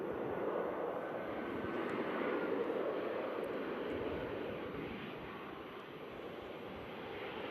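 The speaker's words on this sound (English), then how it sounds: "EasyJet just arrived in from Palma." An EasyJet airliner landing from Palma with reverse thrust, a broad sustained jet engine roar, loud at first and easing slightly toward the end.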